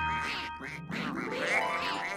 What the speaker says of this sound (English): I can't hear the queen because of all this quacking.